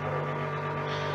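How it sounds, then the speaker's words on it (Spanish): A steady mechanical hum of a refrigerator's small condenser fan running close by, constant and even with a low tonal drone underneath. "es el ventilador de acá arriba."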